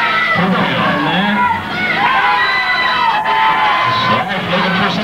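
A crowd at an indoor wrestling match cheers and yells continuously, loud and dense, with shouted voices and whoops rising through the din and commentary talk layered over it.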